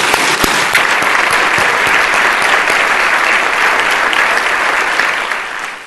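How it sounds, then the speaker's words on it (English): A large audience at a state address gives a big, sustained round of applause that holds steady and loud for several seconds, then starts to fade at the end. "Let's give our small businesses and those who sacrifice to make them a success a big round of applause."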